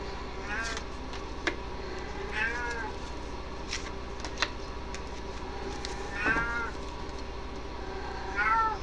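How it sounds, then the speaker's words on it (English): A small cat meows several times, each call rising and falling, spaced a couple of seconds apart over a low steady hum, with a person talking quietly between the calls. "Quiet, little cat."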